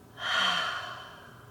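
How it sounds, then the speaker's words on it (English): One slow, audible breath during a guided breathwork meditation swells and then fades over about a second, close and soft, with no talking. "As you continue to breathe in, up, and out."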